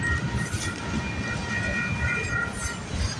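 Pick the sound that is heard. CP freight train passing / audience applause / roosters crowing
CP freight train passing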